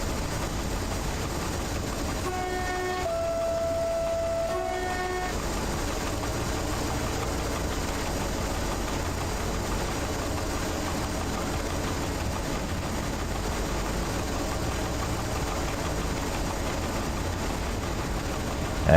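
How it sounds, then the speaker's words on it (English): A freight train rolls into the scene in the Train Driver 2 video game. Its deep engine rumble holds steady throughout, a brief tonal horn-like chord sounds early on, and there is no talk. "that's another train entering"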